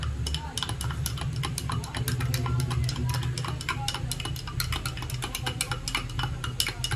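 A spoon stirring sinigang soup in a cooking pot, with steady rapid ticking and clinking against the metal over a low hum, close and continuous throughout with no talk.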